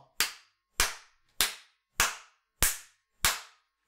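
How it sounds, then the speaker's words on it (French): A man claps loudly, six sharp separate claps in a slow, even rhythm, each one crisp and close with silence between them. "Le mec applaudit fort."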